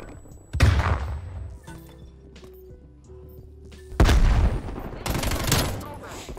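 A grenade explodes and gunfire bursts in Call of Duty Cold War, a heavy boom early, then rapid close shots and another loud blast with a rattling volley, with game sounds in between.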